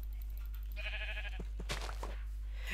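Sheep in the Minecraft video game bleat as short digital bleats over a faint background hum, accompanied by a few soft thuds, with no speech.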